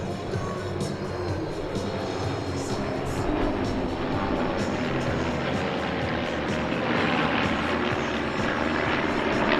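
A formation of kit-built propeller aircraft passes at an airshow, a steady, loud, droning engine roar that swells slightly toward the end without clear breaks.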